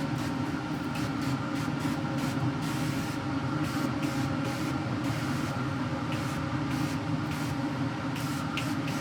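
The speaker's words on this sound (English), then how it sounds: "We're going to spray it down with some duck fat, okay?" A steady hiss of duck fat sprayed from a can over a turkey being smoked on a Traeger, continuous and fairly close for several seconds with no talk.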